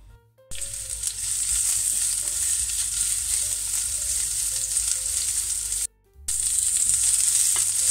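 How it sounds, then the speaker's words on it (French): Onions sweating in olive oil in a pan for an onion tart, a bright steady hiss of frying that starts after a brief quiet moment, pauses for an instant, then resumes, close and even. "Je vais faire suer mes oignons de façon à ce qu'ils prennent un peu de couleur."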